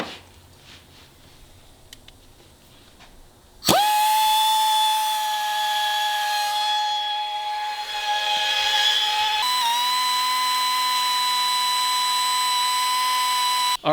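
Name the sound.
rotary tool grinding BMW M50 cylinder head intake ports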